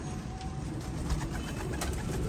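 Pigeons of a light, fancy breed with silky feathers cooing softly and steadily over a constant low background hum, with no talk.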